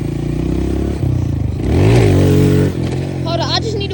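A dirt bike engine revs up and down in short bursts, rising to a louder, higher whine in the middle and then dropping back to a rough idle, close by and with no talking.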